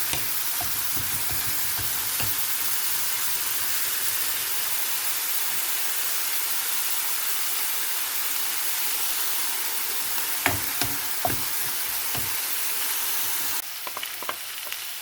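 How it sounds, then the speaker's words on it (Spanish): Chopped onion fries in oil with a pinch of salt in a pan, giving a continuous close sizzle and hiss punctuated by a few scraping stirs and light clinks toward the end. "Y freímos un poquito la cebolla."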